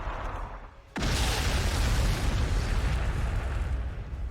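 A sudden heavy blast of a frag missile in the Warhammer 40,000: Sanctus Reach video game, followed by a loud, sustained rumbling roar of explosions that stays up close and barely fades.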